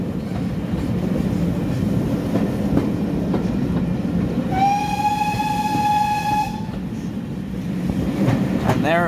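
A steam locomotive whistle sounds one long, clear blast over the steady rumble and clatter of a train, fairly close, at a heritage railway spring gala.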